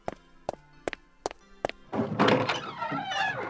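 Five sharp, evenly spaced knocks sound on a door, crisp and fairly close, followed by a louder burst of rustling, shuffling noise.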